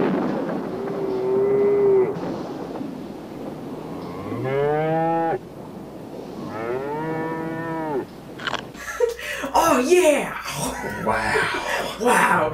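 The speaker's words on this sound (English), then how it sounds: "Yeah! Wow. Cows." Cows in a movie moo in long, drawn-out calls, several in a row and fairly close, followed by voices talking over noisy, busy sound.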